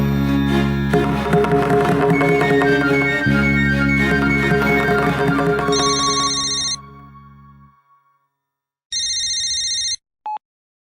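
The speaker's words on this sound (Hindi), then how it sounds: "ऋषि के पिताजी का फोन" A telephone rings in two separate bursts of bright, repeating electronic tones. The first comes as music fades out, and the second follows after a short silence.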